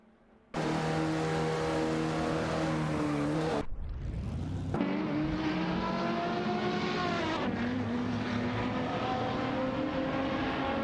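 Race cars in an AI racing video game roar past, engines whining at high revs with rising and falling pitch, one pass cutting abruptly to another car accelerating, loud and continuous with no talk.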